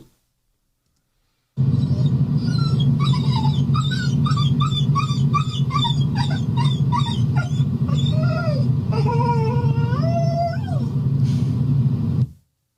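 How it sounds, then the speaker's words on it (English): A dog whines in a string of high, wavering whimpers and yips, some rising and falling in pitch, heard close over a steady low hum that starts and stops abruptly. "The next one that we have is less of a bark and more of a whine"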